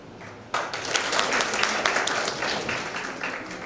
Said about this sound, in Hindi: इंग्लिश फिल्म टाइप ताली बजी।